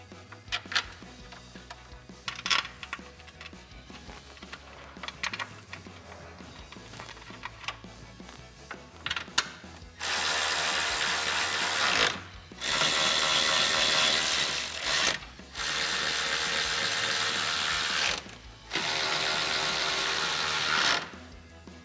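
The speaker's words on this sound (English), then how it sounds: "there are going to be 4 bolts on the top that we're going to tighten with a 10mm socket and a ratchet." Ratchet with a 10mm socket tightening top bolts on a 2009-2018 RAM 1500 headlight, sharp repeated clicking in several bursts, each a few seconds long with short pauses between, close and loud.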